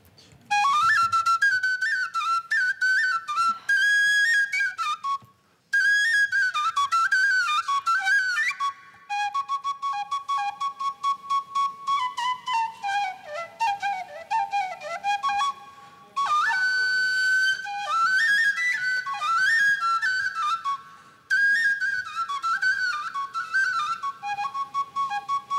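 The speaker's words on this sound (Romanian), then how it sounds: "Uite, încep să cânt ceva în fluier." A Romanian fluier, the shepherd's flute, plays a lively folk tune alone, with bright, trilling phrases broken by a few short pauses and fast ornamented runs.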